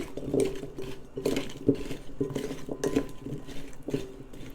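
Roasted radishes tossed and stirred with dried dill and coconut oil, giving repeated clattering scrapes and knocks against a bowl, close and fairly loud in an uneven rhythm.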